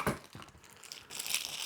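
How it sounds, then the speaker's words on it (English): Plastic wrap being peeled off a baby activity jumper part crinkles and tears in a few quick, close rustles, quiet and brief, with no talking. "Go ahead and take the plastic off."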